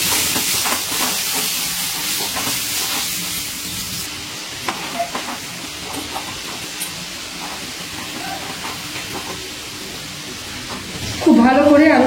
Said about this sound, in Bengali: নুন আর হলুদ দিয়ে আলুটা ভালো করে ভেজে নিচ্ছি